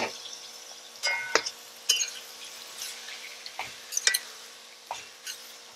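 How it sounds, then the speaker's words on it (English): Seasoned conch curry is stirred in a pot, with a spoon scraping and knocking against the metal in irregular strokes over a soft sizzle. "Stir it well to combine."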